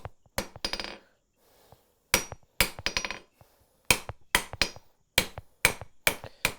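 A hammer strikes a steel bar on an anvil as it is forged square, about 3/8 inch across, into a blacksmith's diamond. About a dozen sharp, ringing blows come in short bursts, close by and alone.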